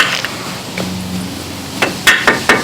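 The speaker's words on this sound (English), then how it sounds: "put the screwdriver on the back side of the bolt and just tapped it out" A screwdriver driven with a mallet to tap a bolt out during a front shock install on a 1996 Chevrolet Blazer, with a quiet workshop hum and then four sharp, close knocks in quick succession near the end.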